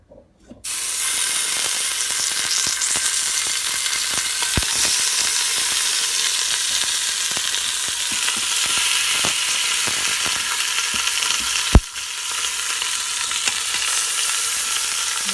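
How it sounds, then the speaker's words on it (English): Short ribs searing in an Instant Pot on the sauté setting give a loud, continuous close-up sizzle and spatter for the whole stretch, with a few sharp pops and one clunk, and no talking. "we're going to just brown them for about a minute or 2 on each side"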